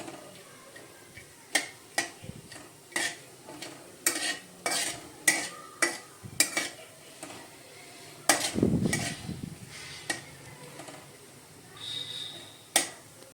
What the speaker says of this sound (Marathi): तर हे आता आपण तुपामध्ये भाजून घेऊया तर बारीक गॅसवरच हे मी भाजून घेत आहे